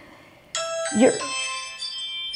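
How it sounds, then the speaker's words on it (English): A doorbell chimes once with ringing, bell-like tones that linger and fade, sounding indoors and moderately close, with faint voice underneath. "That was my doorbell."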